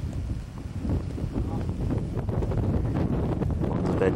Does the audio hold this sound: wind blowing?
yes